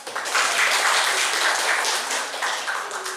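Classroom applause after a group's poetry reading, a steady wash of many hands clapping together at close range, holding for several seconds and tapering slightly at the end.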